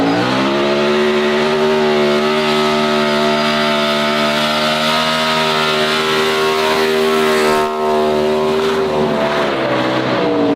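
A Mopar R5P7 NASCAR engine roars loud and sustained, holding a strong, harmonically rich drone with a brief dip before surging on, with no talking over it.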